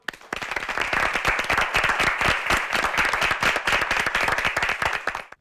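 Audience at a Korean high school debate competition clapping to welcome a debater, rhythmic unison claps building quickly and stopping abruptly after about five seconds.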